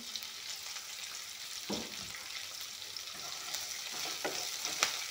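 Ginger fries in a pan alongside panch phoron and onion for ghugni, a quiet continuous sizzle with a few soft stirring scrapes and small clinks, no talking.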